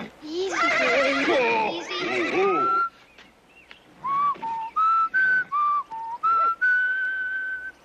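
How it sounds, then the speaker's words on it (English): A person whistles to a horse with a series of short, clear, steady whistled notes in a rising and falling pattern, following a horse's loud whinny and a voice at the start. "you don't have to teach me that whistle"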